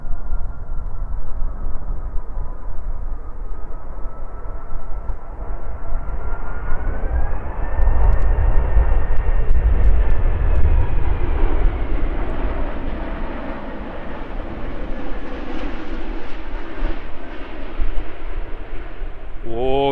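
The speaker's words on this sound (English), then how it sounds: "Hear them spooling up those engines for a bit of extra power." Singapore Airlines A350 jet engines spooling up for takeoff at Christchurch, a loud sustained roar with a rising whine that swells and holds over twenty seconds, with brief bursts of nearby voices.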